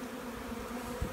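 Honey bees hum steadily around small hive boxes, a dense, even drone close to the microphone with no voices, ending in a brief soft knock.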